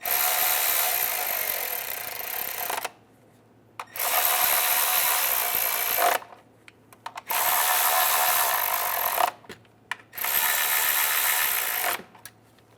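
A ratchet snugs down the valve cover bolts on a 2011-2014 Hyundai Sonata, sounding as four loud, close runs of rapid clicking with short silent pauses between them.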